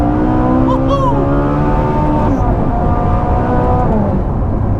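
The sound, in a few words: Ferrari naturally aspirated V8 revving to 8,500 RPM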